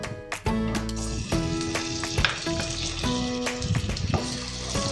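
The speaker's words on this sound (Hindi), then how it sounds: "अब हम खजूर फ्राई कर लेंगे।" Dates frying in a pan while preparing sheer khurma, a steady close sizzle beneath prominent tonal background music, no talk.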